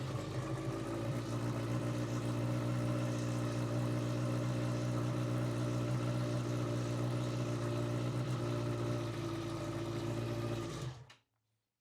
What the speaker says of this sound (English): Now if I start the bike